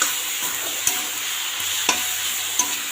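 Greens tossed into a pan of fried onions and stirred: steady hiss of frying with a few sharp spatula scrapes against the pan, close and moderately loud, no voices.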